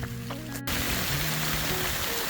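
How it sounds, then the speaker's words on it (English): Heavy rain pours down on a hiking trail on the Appalachian Trail during a spring thunderstorm, a dense continuous hiss close around, with a brief voice and humming at the start before the downpour dominates. "on the AT in the pouring rain, thunder, windy"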